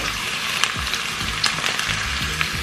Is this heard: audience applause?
no